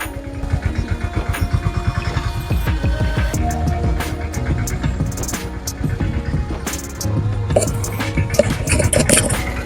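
A tractor engine in a rainy village farm setting, a low chugging rumble with a rapid pulsing beat at first, then a steady running drone, close and fairly loud.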